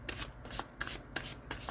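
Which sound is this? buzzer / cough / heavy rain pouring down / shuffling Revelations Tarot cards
shuffling Revelations Tarot cards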